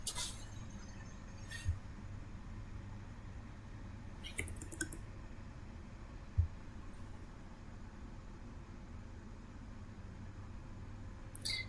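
A computer mouse clicks a few sharp, isolated times against a quiet, steady hum, with the clicks scattered several seconds apart and no talk in between.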